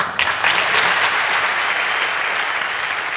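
An audience at a Turkish high-school talent show breaks into loud, sustained applause, a dense wash of clapping from a large crowd that holds steady throughout.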